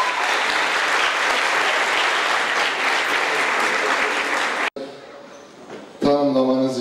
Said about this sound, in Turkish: Bahçeşehir Belediye Başkanı Kemal Aydın'a davet ediyoruz alkışlarınızla.